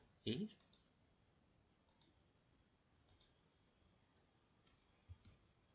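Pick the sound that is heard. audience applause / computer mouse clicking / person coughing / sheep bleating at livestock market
computer mouse clicking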